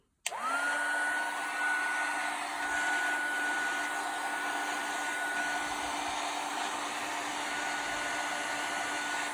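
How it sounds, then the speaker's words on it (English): A heat gun warms embossing powder on a papercraft embellishment, switching on with a click and then blowing a steady, loud whirring roar with a constant high whine that holds without a break. "I'm going to heat it up, and then we can see how the embossing goes."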